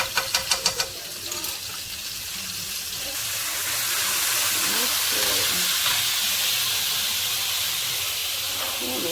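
Garlic frying over low heat in a pan, a steady hiss and sizzle that builds after a few quick taps at the start and then holds evenly.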